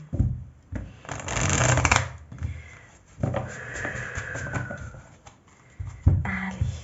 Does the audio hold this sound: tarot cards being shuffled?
yes